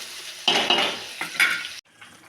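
Vegetables stirred and sautéed in a pan for a home-cooked bhaji, with scraping, clinking spoon strokes in a few bursts before stopping abruptly, close and moderately loud, with no talking.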